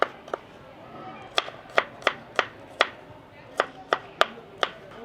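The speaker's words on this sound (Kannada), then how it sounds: "ನಮ್ಮ ಮೇನ್ ಐಟಮ್ ಗಾರ್ಲಿಕ್ನ ಚಿಕ್ಕದಾಗಿ, ತುಂಬ ಸಣ್ಣದಾಗಿ ಚಾಪ್ ಮಾಡ್ಕೊಳ್ಳೋಣ" A knife chops garlic finely on a board, with about a dozen crisp, close taps in an uneven rhythm and short pauses between bursts.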